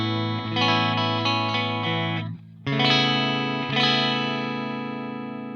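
Sustained electric guitar chords drenched in delay and reverb, ringing with shimmering ambient sustain; a brief drop-out splits the phrase before a fresh chord swells and slowly decays into a lingering wash.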